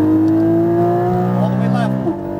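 A race car engine at full throttle holds a loud, steady buzzing drone close by, the pitch climbing slightly before a brief dip near the end.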